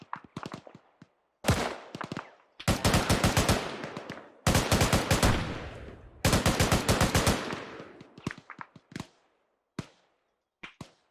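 Rifle gunfire in the video game ArmA 3, loud sustained bursts of automatic fire in several long strings, then scattered single shots trailing off into silence.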